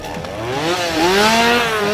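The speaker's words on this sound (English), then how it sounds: "there's usually a ton of clowns with chainsaws chasing you around" Chainsaw revving in a Halloween Horror Nights scare zone, its engine rising and falling in pitch in a loud, close, continuous whine.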